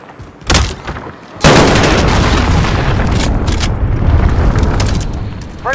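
An incoming missile explodes in a shooter game: a sharp blast, then a second heavy boom that leaves a long, loud rumbling roar fading slowly, close and overwhelming.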